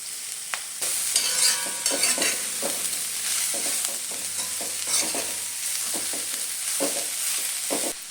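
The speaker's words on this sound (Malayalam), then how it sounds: "ചേർത്ത് കൊടുത്ത് നന്നായിട്ട് നമുക്കൊന്ന് മിക്സ് ചെയ്ത് കൊടുക്കാം." Sliced onions being stirred into chicken in a pan: repeated scraping stir strokes over a continuous sizzle, close by, with no voices.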